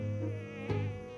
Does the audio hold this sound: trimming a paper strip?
no